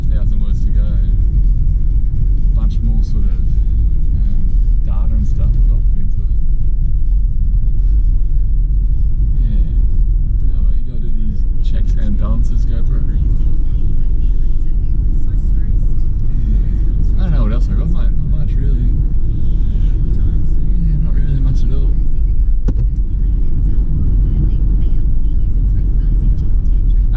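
Constant low cabin rumble of a car driving home from the gym, steady road and engine drone throughout, with someone talking over it nearly the whole time.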